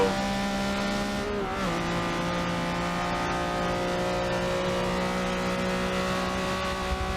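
Engines of racing cars from the 1980s, including a Lamborghini Countach, drone and whine in a racing game, a continuous layered engine tone with a brief pitch dip and recovery as the cars hold speed.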